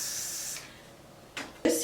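Got2b Glued hair spray misted onto the front of a blonde wig, two or three short airy hissing bursts, near and fairly faint, separated by brief pauses.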